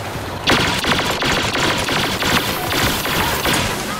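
Hunting rifle fire in a Star Wars video game cracks out in a rapid series of loud, close shots at a steady rhythm, roughly one every half second.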